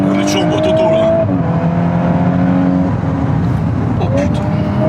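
A Volkswagen Golf 8 R under hard braking, its engine note dropping in loud, close tones with a brief tyre-like whine, while someone talks over it in the cabin throughout.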